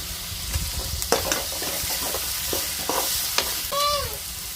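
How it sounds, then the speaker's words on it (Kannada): Bitter gourd curry base with chilli powder and salt frying in a pan, a continuous sizzle under repeated scraping and clinking stirs of a spoon, heard close with no talking. "ಇಷ್ಟು ಚಂದಗ ಹುರ್ತೀನಿ ನಾನು."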